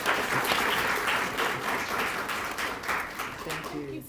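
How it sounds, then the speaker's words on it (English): A conference audience applauds a speaker from Global Empowerment Solutions, steady clapping from a mid-sized crowd in a hall, lasting throughout and fading slightly at the end. "Let's give a round of applause to Samira Cook Gaines"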